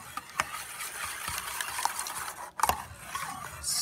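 An egg beater held submerged churns a creme flan mixture, giving a soft, uneven whirring and sloshing with a few louder clicks, close and without speech.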